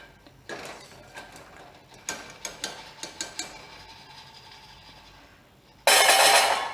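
Light crisp rustling and a quick run of sharp clicking taps as small crunchy fried mussel-shaped biscuits shift about, followed by a louder burst of hissing noise.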